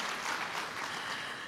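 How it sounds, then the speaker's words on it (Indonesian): A church congregation applauds at an onsite Sunday service, steady dense clapping filling the room for a short stretch with no talk over it. "Tepuk tangan lagi dong yang meriah buat Tuhan kita."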